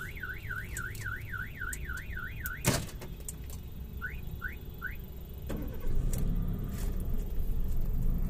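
A petrol Chevrolet Aveo UVA LT chirps its alarm with a warbling tone and short beeps, a door thuds shut, then the engine starts and settles into a low, steady idle.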